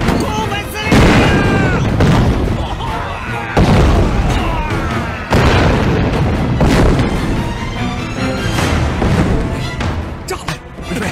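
Bomb explosions in a kung fu war film boom loudly in several heavy blasts with rumbling debris between them, close and dense throughout, with faint voices mixed in.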